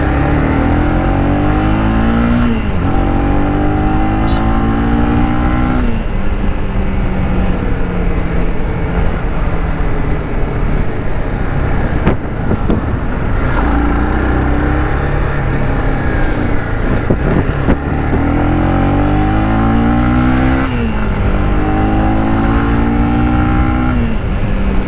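A Honda CB 300R motorcycle rides through the city, its engine loud and close, repeatedly rising in pitch through accelerations and dropping back between gear changes.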